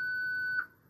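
A single sustained electronic beep from an OrCam MyEye wearable assistive device clipped to glasses, steady and clear, fairly quiet, with no talk over it.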